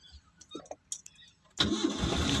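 A car in a driving lesson sits quiet apart from a few faint clicks and small cabin noises. Then its engine cranks and catches, settling into a steady, close idle that runs to the end.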